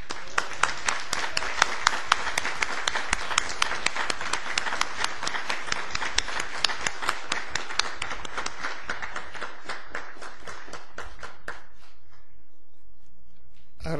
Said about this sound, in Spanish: por quien pido un caluroso aplauso